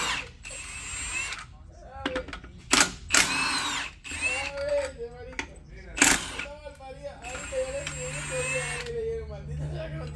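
Power tool bursts loosening bolts on the upper engine mount of a Porsche with a ZF 7DT PDK transmission, several loud whirring runs between pauses, with someone talking throughout.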